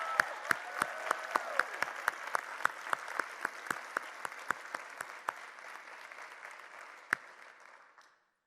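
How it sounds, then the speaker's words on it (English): Audience applause following a talk at a university exchange event, sparse individual claps rising over a steady bed of clapping, fading out near the end. "I really recommend us a round of applause"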